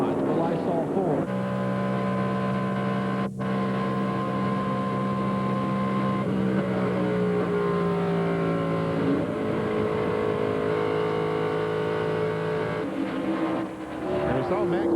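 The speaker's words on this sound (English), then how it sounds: "you can see the line of cars that Elton Sawyer's trying to catch" NASCAR Busch Series stock cars race in the 2000 Auto Club 300, their engines a continuous droning roar with shifting pitch as the pack runs, while a commentator talks over the top.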